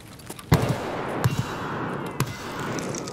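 Gunfire in Escape From Tarkov on the Factory map, with a few sharp reports spaced apart over a steady background hiss, sounding at moderate distance.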